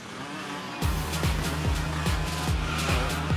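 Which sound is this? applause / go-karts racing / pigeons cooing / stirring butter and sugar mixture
go-karts racing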